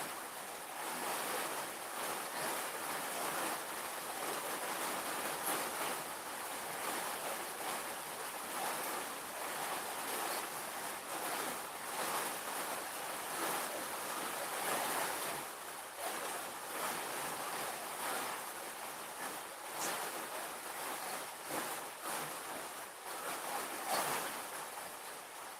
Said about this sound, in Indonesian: Ini nampaknya hujan masih cukup deras.